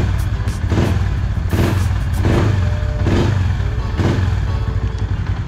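A Yamaha Sniper 150 motorcycle on its stock ECU revs repeatedly, each throttle blip rising and falling in a steady rhythm over a loud, close idling engine with laggy response.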